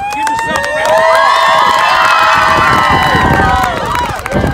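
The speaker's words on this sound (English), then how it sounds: "Give yourself a round of applause." A loud youth sports crowd at a 2019 playoff semifinal cheers and shouts for a team, the noise swelling and holding steady with children's high voices on top before easing off near the end.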